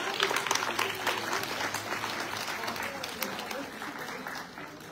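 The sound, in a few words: applause at Comorian craft fair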